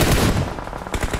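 Rapid automatic gunfire from a battle royale video game, loud bursts filling the opening half, then a choppier stretch and another strong burst near the end.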